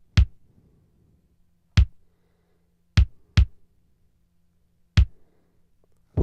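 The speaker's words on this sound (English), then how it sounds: "Right, so there's my kick drum. Without the effects." A dry, unprocessed electronic kick drum from an iOS tube saturator demo thumps in short, sharp hits, six spaced irregularly apart, with silence between them.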